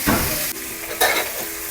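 Garlic sizzles in a pan as liquid is poured in for a plain aioli pasta: two bursts of loud, hissing, spattering sizzle, the second starting about a second in, each settling into a quieter crackle, with no talking.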